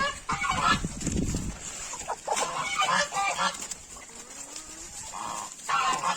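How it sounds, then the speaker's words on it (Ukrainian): Chickens let out of their coop, clucking and calling close by as a lively flock pours out, with steady overlapping bird noise and no talk. "Ну що ж, випускаємо кури і йдемо дивитися, що вони нам нанесли."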